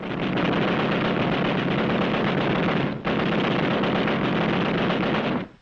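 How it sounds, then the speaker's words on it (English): A machine gun fires during the Battle of Okinawa near Naha, a dense continuous roar of rapid shots with one brief break midway, loud and close, then cutting off abruptly. "Then, one of our machine guns opened up."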